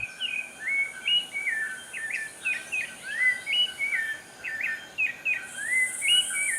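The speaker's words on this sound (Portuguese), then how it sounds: "Esse, por exemplo, é o canto do sabiá-laranjeira." A rufous-bellied thrush (sabiá-laranjeira) sings a steady run of clear, warbling whistled phrases, one after another with brief gaps, close and loud over quiet ambience.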